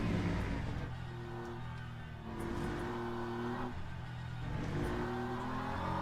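A BMW GT3 race car in the Le Mans Ultimate racing game, its engine droning and revving through gear changes, rising and falling in pitch with a steady mid-range roar.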